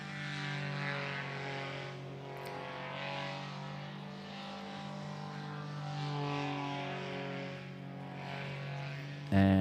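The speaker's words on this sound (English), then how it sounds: "so that's a Sky engine he's flying. In fact, it's a Sky 150, I think." A Sky 150 paramotor engine drones steadily as the pilot flies a Dudek Snake 4 wing at a paramotor slalom championship. The tone is loud and continuous and swells and dips slightly as the pilot passes.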